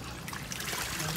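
Water runs and trickles steadily during a dog's bath, a close, continuous splashing stream over a brief moment with no talking.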